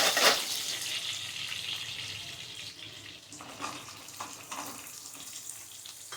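Pumpkin tumbles into a pan of fried ingredients for a spice-free home recipe, setting off a loud hissing sizzle that gradually settles into a softer crackle with a few light stirring sounds and no talking.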